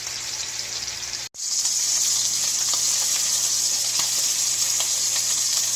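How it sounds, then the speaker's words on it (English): Pork tenderloin sears in a hot pan with a steady, bright sizzle, briefly cut off by a short silent gap before the loud crackling hiss resumes and holds evenly. "Okay, so I am searing my ends."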